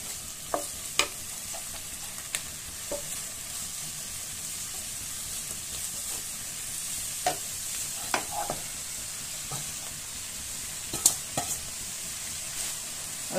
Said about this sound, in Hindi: ये चनलाई को हम इसके अंदर डाल देंगे और ऐसे हिलाते जाएंगे।